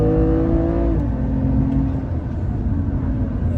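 A car accelerating hard on a race circuit during a driving lesson, heard from inside as a loud engine drone whose pitch rises and then drops as it shifts.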